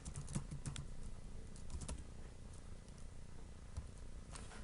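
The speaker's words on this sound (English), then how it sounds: "I'm going to type in" A web address is typed on a computer keyboard: quiet, uneven bursts of key clicks over a low steady background hum, with no talking.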